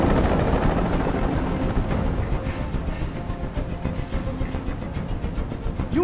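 Helicopter rotor noise from the video game Detroit: Become Human, a loud, steady broadband roar that drones on throughout with a faint rhythmic chop and no talk over it.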